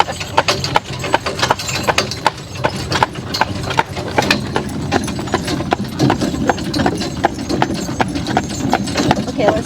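Horse hooves clip-clop in a steady, brisk rhythm while pulling a buggy along a road, close and clear throughout, with people talking over the hoofbeats.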